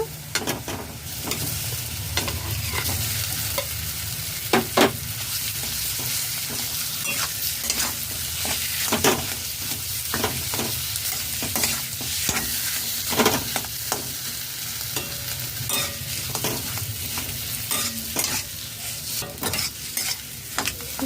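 A spoon stirs boiled mashed potatoes with cumin powder and salt in a pan for pav bhaji, repeated scraping strokes over a steady sizzle, close and fairly loud throughout.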